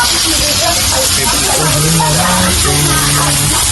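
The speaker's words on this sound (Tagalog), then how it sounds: "piprituhin na yung pork chop" A pork chop frying in a pan gives a steady, loud hiss and sizzle close up, with a voice talking faintly underneath.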